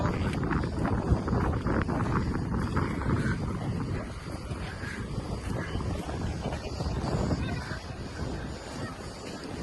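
Steady wind in Bodrum buffets the microphone with a constant rumbling roar, alongside faint background noise throughout.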